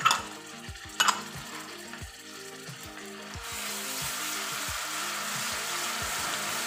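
Green chilies with ginger and garlic sizzle steadily in a hot pan, with scraping stirs and spoon taps early on, the frying hiss growing louder and fuller; no one speaks.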